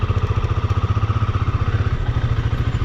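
A motorcycle engine on a solo Himalayan ride near Chitkul runs close by with a steady, rapid thumping pulse, loud and continuous with a brief dip partway through.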